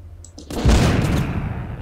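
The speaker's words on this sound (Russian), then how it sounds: "Так, я вам гранатку слушай подкину." A grenade blast in The Walking Zombie 2 lands as a sudden loud boom after a couple of small clicks, followed by a broad rumbling roar that lingers and fades slowly.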